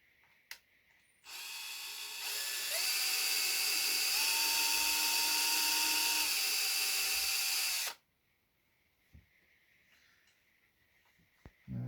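A small power drill with a 1mm bit bores a hole in a copper butterfly wing, a high whining burst of about seven seconds with pitch steps, set between quiet handling clicks.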